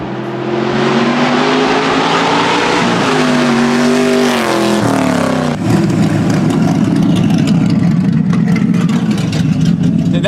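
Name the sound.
refurbished car accelerating hard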